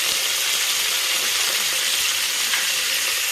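Garlic and curry leaves fry steadily in a hot pan, giving a loud, continuous bright sizzle with faint occasional stirring clicks and no voices.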